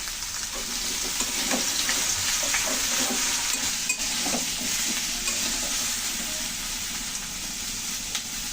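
Chopped bottle gourd and green chillies stir-fry in a pan with a continuous close sizzle and steady scraping of a spatula, unbroken by any speech.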